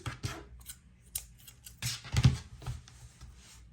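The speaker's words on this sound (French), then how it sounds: "je coupe mon fil" Scissors snip through crochet yarn at close range, giving a few quick crisp cuts and a louder central snip over a quiet background, with no voices.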